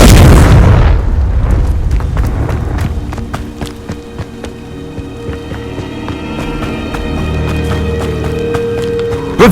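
A loud spell explosion bursts from the Confringo spell in Hogwarts Legacy on PS5, a heavy boom that decays into rumbling debris and scattered crackles, with game ambience continuing beneath.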